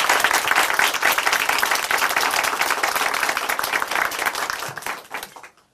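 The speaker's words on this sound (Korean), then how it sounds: "다시 한번 우리 자매님께 큰 박수 부탁드리겠습니다." An audience claps loudly and steadily for a woman who has just given a testimony on a church television programme. The applause is dense and continuous, then tapers off at the very end.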